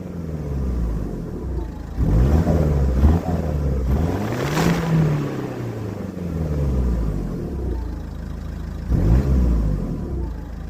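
Stock exhaust on a Ford S-Max, heard before a straight-pipe and Hoffmann back box delete, revving up in several blips. A low engine rumble rises and falls through swept harmonics, with a few sharper bursts, close and clear with no talk.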